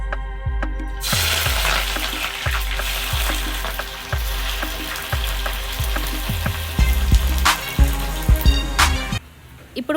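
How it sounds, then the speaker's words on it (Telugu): Onions deep-frying in oil for chicken dum biryani, a loud, dense sizzle with regular low thuds of stirring, growing more agitated toward the end before cutting off. "ఇప్పుడు కట్ చేసి పెట్టుకున్న ఆనియన్స్ని బ్రౌన్ కలర్ వచ్చేంత వరకు వేయించుకుందాం."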